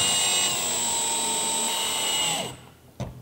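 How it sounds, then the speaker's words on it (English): Power drill driving a radar module into position on a new grille for a Toyota Tundra TRD Pro, a steady high whine running near and loud for about two and a half seconds before spinning down, followed by a brief click. "we're going to go ahead and drill the module for the radar into its position on the new grill."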